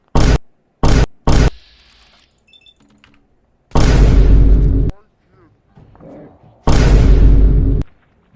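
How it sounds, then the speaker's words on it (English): Explosions burst out at random, three short sharp blasts in quick succession followed later by two longer, roaring booms, with quiet gaps in between. "Random explosions."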